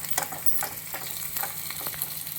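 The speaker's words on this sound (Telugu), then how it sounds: "అవి వేగుతున్నట్లే ఆనియన్ వేసాలండి" Sliced onions and green chillies fry and sizzle in a hot pan, a steady crackling hiss broken by a few light stirring scrapes, close and fairly quiet.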